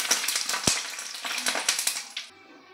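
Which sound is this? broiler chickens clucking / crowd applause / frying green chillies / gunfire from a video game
frying green chillies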